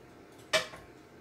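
A cooking pot picked up and set down in a kitchen while green beans are prepared, giving a single short metallic clank with a faint ringing tail.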